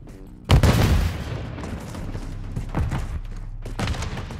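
A grenade explodes in the Call of Duty: Modern Warfare III multiplayer match, a loud close boom with a short rumbling tail, followed by scattered distant gunfire and thuds.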